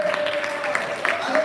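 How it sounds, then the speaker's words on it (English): Audience clapping for a guest at a design summit event, a modest round of applause running beneath a voice talking over it. "let's give a round of applause to Tamara Hunter"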